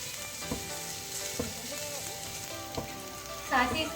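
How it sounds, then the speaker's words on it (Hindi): Garlic cloves frying in a pan: a faint, steady sizzle with light taps and scrapes of a utensil now and then. "सबसे पहले यहाँ पर ऐड करूँगी मैं लहसुन की जौएं। इसको थोड़ा सा हम इसका कच्चापन दूर करेंगे।"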